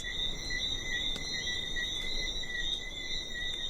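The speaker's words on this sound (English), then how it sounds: "There's just the sound of the breeze and these little frogs that come out at night and chorus all over the island." Small frogs chorus at night on a Caribbean island, a steady, even trilling of many high-pitched calls that goes on without a break at moderate volume, with a faint breeze underneath.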